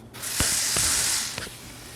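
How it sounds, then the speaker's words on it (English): A spray bottle tip set to a fine mist sprays water into a pixie frog tank, a close breathy hiss lasting about a second with a few short trigger pumps and clicks. "I turn the tip to be more of a spray, and I just hit it with some water in there."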